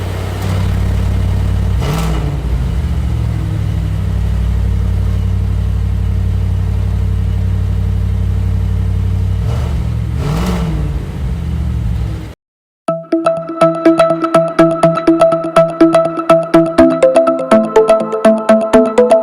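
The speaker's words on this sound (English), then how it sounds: "That was the roar of the Audi RS5." An Audi RS5 coupé's V8 engine holds a loud, deep, steady roar with a couple of brief revs. It cuts off abruptly, then rhythmic tonal music follows.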